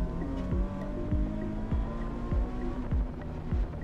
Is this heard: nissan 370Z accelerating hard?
yes